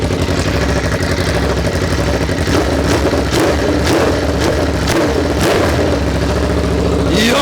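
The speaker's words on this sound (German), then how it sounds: "Ich gebe mal ganz kurz ein bisschen Gas." An Aprilia RSV4 1100 Factory superbike fitted with an SC-Project GP22 exhaust, revving loud and close with a steady rumbling drone and rising throttle blips, no talk.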